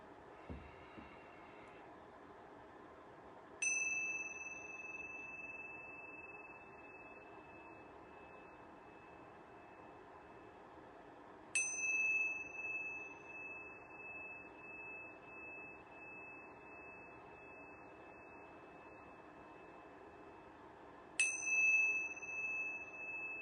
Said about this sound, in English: I'm going to ring these yoga bells 3 times.